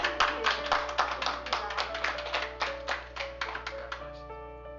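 Applause from a small audience at a school district board meeting, a few hands clapping in a loose, uneven rhythm over a steady low hum, moderately loud and fading slightly toward the end.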